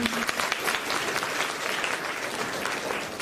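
An audience claps throughout at a Brahma Kumaris ceremony in India, a dense, sustained round of applause from a crowd, steady and fairly loud with no break.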